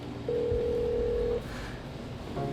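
A telephone being dialed for a phone call, a single steady tone held for about a second over low room noise, followed by a brief second tone.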